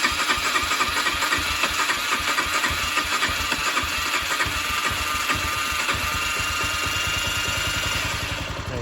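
An old barn-find Honda CG 125 motorcycle runs close by, its single-cylinder engine firing in a steady rapid beat at idle throughout, dipping slightly at the very end.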